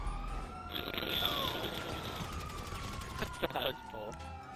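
A police siren wails in a video game during a gang war, the rising and falling tone mixed with game noise and occasional shots while a person talks.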